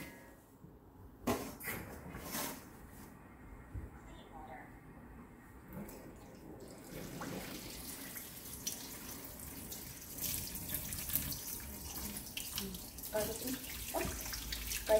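Fresh Muntingia calabura leaves rinsed under a running kitchen tap, water splashing steadily into a sink with a few handling knocks, while someone talks over it.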